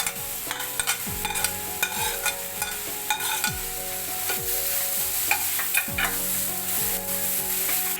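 Paneer fries with garlic and salt in a hot pan, giving a constant loud sizzle broken by repeated scraping stirs of a spatula.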